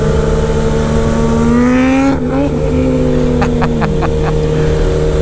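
A 2020 Kawasaki Z H2 supercharged motorcycle accelerates hard on the throttle, its loud engine note climbing through the revs, dropping sharply at a gear change, then rising again, with quick clicking pops near the end.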